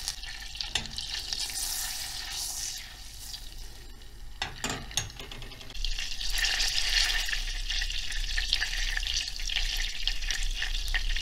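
Butter with dried peppers sizzles in a small pan for a lentil soup topping, a continuous close crackling fry with a few stirring knocks, growing louder and denser partway through.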